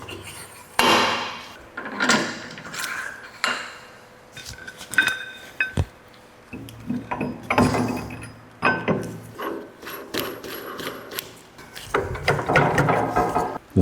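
A brake rotor being fitted onto a brake lathe, with a run of clinks, metallic taps and clanks from the parts and tools, close by and uneven, broken by short pauses.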